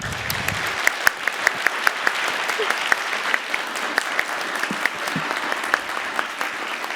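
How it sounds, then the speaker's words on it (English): Conference audience at an open mic battle claps to register on an applause meter, steady dense clapping with crisp individual claps popping out near the microphone, sustained for several seconds. "Okay, now we go to the official applause meter."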